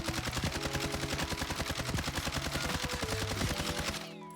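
Automatic gunfire from the Warzone first-person shooter, fired through the iron sight during a recoil test: one rapid, evenly spaced burst of shots lasting about four seconds, loud and close, then cutting off abruptly.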